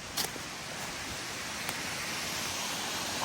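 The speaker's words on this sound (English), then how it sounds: "Oh, you guys hear that water?" Steady broadband rush of a stream or waterfall on wooded state game land, continuous and fairly loud throughout with no talk, a brief rustle near the start.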